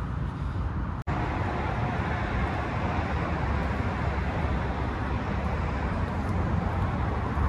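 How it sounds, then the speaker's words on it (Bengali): A tram rolls past on a city street in Germany, a steady broadband rumble that stays loud and close the whole time, with a brief break early on and no talk over it. "ট্রাম চলে যাচ্ছে এখান দিয়ে।"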